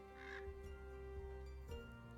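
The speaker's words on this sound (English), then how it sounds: "Bird." A single bird caws once in a video game, short and fairly faint, over a steady droning background hum with a second soft call near the end.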